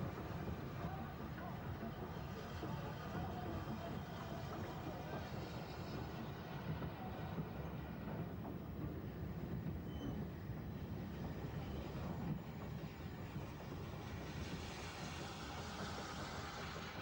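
A train runs on the Bluebell Railway, a heritage steam line, as a steady low rumble and rolling noise heard from a distance, fairly faint throughout.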